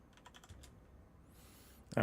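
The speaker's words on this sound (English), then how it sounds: "so Bob's typing" Keys typed on a computer keyboard during an online tabletop role-playing session, a faint quick run of clicks near the start followed by quiet background and a louder bump at the end.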